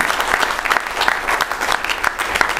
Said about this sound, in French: Donc je vous demande d'applaudir Jacques.